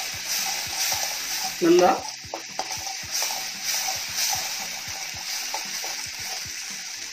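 Masala sizzling and being stirred in a pan with Kashmiri chili powder for a crab roast, a steady close frying hiss with spoon scrapes and knocks, a brief louder clatter partway through, and a few spoken words.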